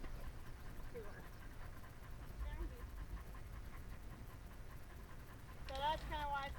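Herding dogs working sheep pant steadily and faintly at a distance, with a brief whimper near the end and a voice talking quietly underneath.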